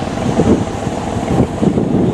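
Storm wind buffets a boat at sea, roaring and gusting close to the microphone with rushing water and rain beneath it, loud and continuous with no voices.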